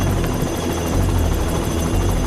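A helicopter hovers close overhead, a loud, steady rotor roar and buzz with a powerful downdraft, continuous with no voices.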